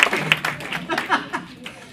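Audience at a comedy club breaking into scattered applause and clapping, the claps mixed with voices and crowd noise at moderate level.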